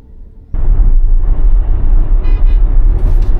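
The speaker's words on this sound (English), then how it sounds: "just avoiding this Ford that had to honk his horn" A Ford car's horn honks loudly and close on a road in Selma, Texas, a sustained blare over the rumble of traffic, with a brief higher tone near the end.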